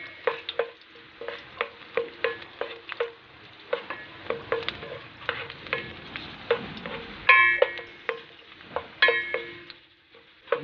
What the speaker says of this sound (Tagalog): Yan, manggisa na tayo.